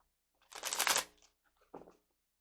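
New tarot cards are shuffled close by in two quick riffling bursts, the first longer and louder, the second short and softer, with quiet between.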